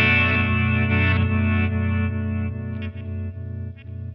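Electric guitar played through a Flamma FS03 delay pedal on a modulated reverse-style setting, a dense, chorused, distorted wash of sustained strummed tones with swelling repeats, loud and steady for about four seconds, no talk.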